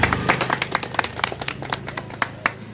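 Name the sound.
audience clapping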